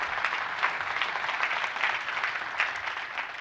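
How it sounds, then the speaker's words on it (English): A conference audience at a DevOpsDays tech event gives a quick round of applause for the sponsors, many hands clapping in a steady, moderately loud burst with no talking over it. "So just one more quick round of applause for all of our sponsors."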